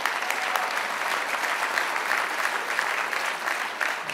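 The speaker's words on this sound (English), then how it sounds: "Let's give the chairman a round of applause." Warm audience applause for the chairman at a political convention, a continuous wash of many hands clapping at steady volume throughout.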